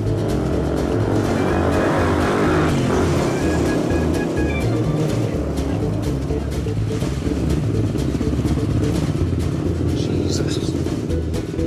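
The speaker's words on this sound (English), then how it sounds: "He's going to pick me up on his motorbike." A motorbike rides along with a steady loud engine drone and rumbling wind buffeting, continuous and close for the whole stretch, with some voices heard under the noise.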